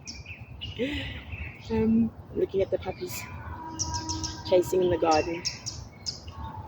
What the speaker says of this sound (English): The birds, which are really noisy.